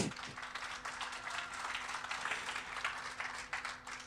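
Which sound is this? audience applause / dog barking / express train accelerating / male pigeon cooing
audience applause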